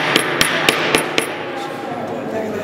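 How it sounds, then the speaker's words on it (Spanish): A hammer taps tacks into canvas being stretched over a frame: five sharp, evenly spaced strikes in quick succession, close and loud, followed by quiet room tone. "Y ahora con el martillo."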